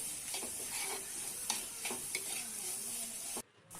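Ingredients for a Kuttanad-style backwater prawn curry sauté in a pan with salt, a soft sizzle broken by light scraping stirs, close and quiet, ending abruptly.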